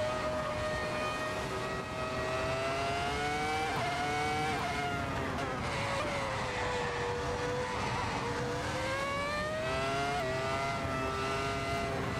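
A car races in the Assetto Corsa racing game, its engine droning loudly and continuously with rising and falling revs and a hint of tyre squeal, with no talking.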